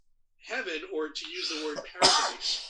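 A single sharp sneeze bursts out close by amid a conversation between people, followed immediately by more talking.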